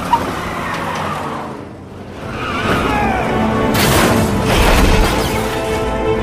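A bazooka hits a car in an action film: a loud burst and blast of noise flares up after a brief lull, then rolls on as a sustained roar of wreckage and engine.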